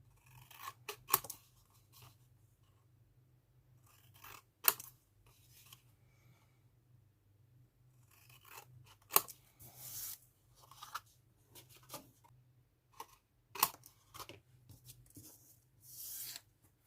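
Scissors cutting the corners of paper for an ocean-themed scrapbook album, with sharp, quiet snips at uneven intervals separated by soft paper rustling, close up and with no talking.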